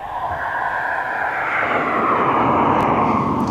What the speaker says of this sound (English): We'll have that Ryanair Max 8 200 from Rhodes in very soon